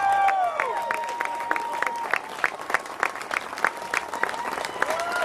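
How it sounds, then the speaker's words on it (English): An outdoor crowd gives sustained applause to the World's Toughest Mudder 2022 race champions at an awards ceremony, a dense patter of many hands with whistles and a few cheers. "One more time, a big applause for all of these people."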